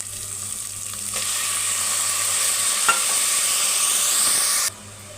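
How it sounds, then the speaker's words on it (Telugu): Ginger paste and tomato fry in a pan with a steady, close sizzle and hiss that runs for several seconds, then cuts off abruptly near the end; no one speaks. "అల్లం పేస్ట్ వేసుకుని అల్లం పేస్ట్ వేగినాక టమాటా వేసి ఇవ్వండి"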